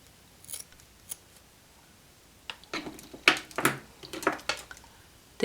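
Scissors snip through a hair weft track for a red quick-weave wig, a few sparse cuts early then a quicker run of close, crisp snips, with no talking.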